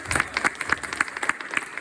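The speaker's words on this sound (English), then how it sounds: "Let's give her a big round of applause." A small audience at a community meeting on a pier bridge and amphitheatre update claps for a speaker, a handful of distinct, fairly close hand claps in a loose rhythm.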